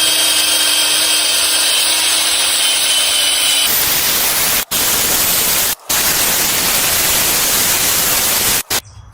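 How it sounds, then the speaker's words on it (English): A harsh, continuous whirring grind of a power drill with a wire brush scrubbing brake dust off car brake calipers, loud and close, with a few brief stops. "we're just going to grab our wire brush on our drill and get to work"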